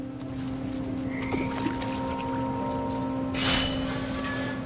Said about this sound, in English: And toads.